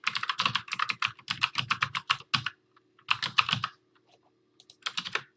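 A domain name being typed on a computer keyboard, close clattering keystrokes in several quick runs separated by short silent gaps.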